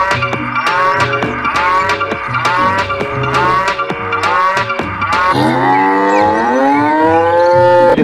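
A black-and-white cow gives loud, close moos, several short calls in a row and then one long drawn-out moo at the end, with no talking.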